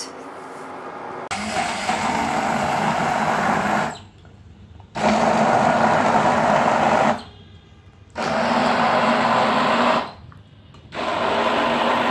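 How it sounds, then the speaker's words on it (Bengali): A kitchen blender purees cooked apple jam in three loud, steady bursts with short quiet pauses between them; there is no talking. "এটা এখন একটুখানি ঠান্ডা করে আমি ব্লেন্ড করে নিব।"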